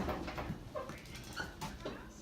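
A small dog whimpers in short, soft whines at close range in a home kitchen, with faint household noise and movement around it.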